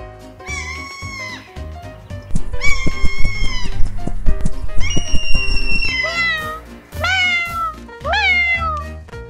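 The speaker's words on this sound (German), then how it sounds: "Ich sehe das Kätzchen." A kitten meowing in a children's Paw Patrol toy play scene, a series of loud, high, drawn-out meows, some rising and falling in pitch, close and clear over a low background of play sounds.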